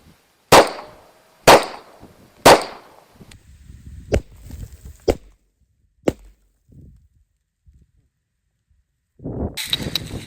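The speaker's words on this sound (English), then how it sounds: "we're going to shoot the 9 first" Shots from a 9mm handgun fired outdoors at a log chunk: three loud, sharp reports about a second apart, then several quieter cracks and thuds, followed by near silence and a burst of noise at the end.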